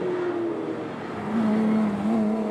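A race car at a Danish circuit drives past the checkered flag, its engine droning loud and close in a sustained, steady tone that shifts slightly in pitch as it passes.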